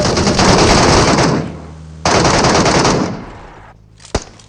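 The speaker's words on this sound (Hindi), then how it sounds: "राइट से भी बहुत MK और ऑम के शॉट्स आने लगता है" Loud, rapid machine gun fire in a battle royale video game, two long sustained bursts separated by a short pause, then a single sharp shot as the noise fades.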